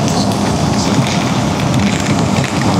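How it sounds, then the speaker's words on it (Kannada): Heavy pre-monsoon rain heard while riding a motorcycle, a dense, loud, steady hiss of rain and wind rush that stays continuous and close for the whole stretch with no speech. "ನಾವು ಮಾತ್ರ ಗಿರಿ ಅನ್ನೋ ಮಳೆಯಲ್ಲಿ ಆರಾಮಾಗಿ ಹೋಗ್ತಾ ಇದ್ದೀವಿ."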